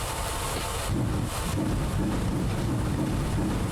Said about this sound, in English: That's a wheel slip.